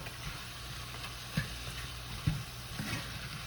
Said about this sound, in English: give this a mix, and just continue to cook until your beef is no longer pink